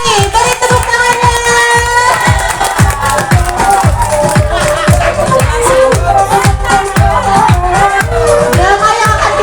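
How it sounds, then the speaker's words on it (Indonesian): Audience at a school drama performance by pesantren students, loud crowd noise with steady rhythmic clapping and cheering throughout, children's voices shouting over it. "Beri tepuk tangannya."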